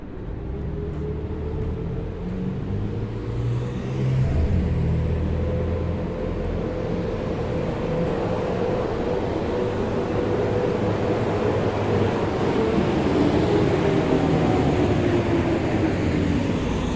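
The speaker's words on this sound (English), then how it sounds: "That garbage truck makes a lot of noise." A garbage truck engine rumbles steadily nearby, a low droning roar that swells slightly and persists throughout amid traffic noise.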